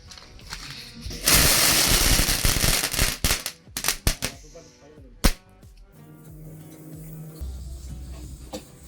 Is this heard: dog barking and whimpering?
no